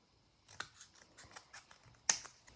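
Scissors snip irregular spikes into a paper crown, a string of close, crisp cuts with one sharper, louder snip near the end and no talking.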